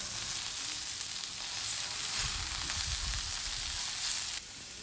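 Chicken sizzles on a tawa griddle in a steady, close, broadband hiss that holds for several seconds, swells slightly midway, then drops quieter near the end, with no talking.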